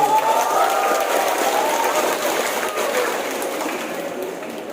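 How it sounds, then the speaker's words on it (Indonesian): Applause from an audience at a trade union workers' meeting for new employees, a steady dense patter of clapping that fades slightly toward the end, with faint voices mixed in. "Tepuk tangan."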